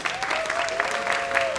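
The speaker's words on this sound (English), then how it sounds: "One more round of applause." An audience at a live podcast session applauds with dense, steady clapping from a crowd, filling the short moment from start to finish, with a faint tonal hum underneath.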